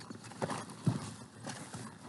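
Horse hooves clip-clopping forward on a ranch, a few soft, fairly distant steps at an uneven pace over low background noise.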